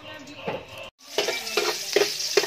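Ginger dropped into a hot pan for chicken tinola, giving bursts of sizzling and stirring scrapes after a brief silence, close and fairly loud, with a person talking in between.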